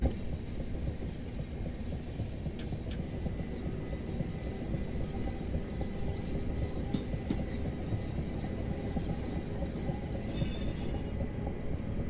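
A little train in the Chatham Main Line railway simulator runs through points, giving a steady rolling rumble with faint clickety-clack and occasional metallic ticks throughout.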